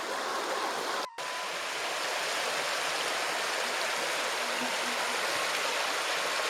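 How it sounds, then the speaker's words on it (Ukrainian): River water rushes over a stony riffle at a beaver dam, a steady, close, broadband wash of flowing water that continues unbroken apart from one brief cut. "Забили греблю поверх кам'янистого переката і так багато води затримують."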